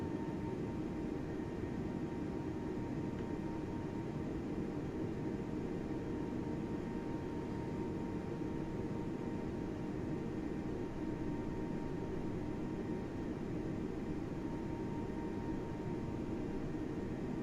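Airbus A320neo engines from an add-on sound pack in Microsoft Flight Simulator 2020, a steady, faint broadband roar with a constant faint tone, unchanging throughout with no talk.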